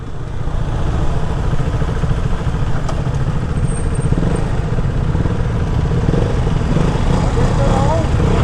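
KTM RC 200 motorcycles drag race at night, their engines giving a steady loud drone throughout, heavy with wind buffeting, while a rider talks over it.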